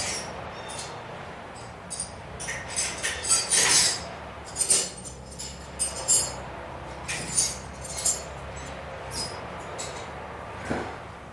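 Metal tools clink and rattle in irregular bursts while someone rummages for a 9/16 wrench in a garage during a 1976 Corvette restomod job, with scattered clatters and pauses between them.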